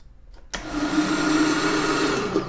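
Kitchen blender starts abruptly and whirs steadily, puréeing peaches in syrup at close range, a loud continuous motor drone with no talking.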